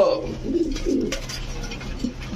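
Pigeons coo repeatedly at a Bangladeshi pigeon market where Pakistani Teddy, Lahori, Beauty, Golla and Giribaz birds are sold with eggs and chicks, soft throaty calls rising over a steady crowd murmur.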